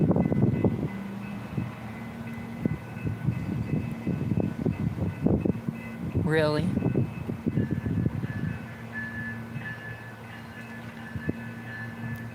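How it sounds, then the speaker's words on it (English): Commuter train on rails arriving at a platform on a line to Union Station, a steady close rumble with rhythmic clacking, a rising whistle-like squeal midway, and a brief spoken word. "Train to Union Station arriving in 1 minute."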